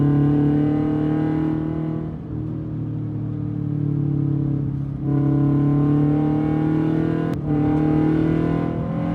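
A Toyota GT86 engine revs high under acceleration, a loud, sustained harmonic drone that climbs in pitch through each gear, with brief dips at the shifts.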